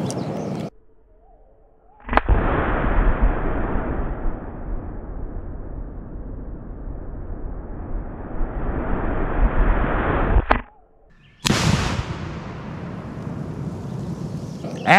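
A PSA H&R Retro M16A1 rifle fires outdoors in a jungle setting, loud sharp reports, each followed by a long rumbling echo rolling through the trees.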